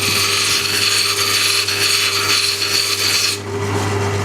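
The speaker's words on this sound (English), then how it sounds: "And back to the disc sander." A disc sander grinds a wooden peg, a loud steady rasping whir with a constant motor hum, pressure easing off near the end, no speech.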